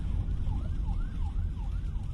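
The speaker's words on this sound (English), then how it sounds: "we've got the ambulance" Wailing ambulance siren sweeping up and down in a steady repeating rise and fall, heard amid loud low street and traffic rumble, moderately distant.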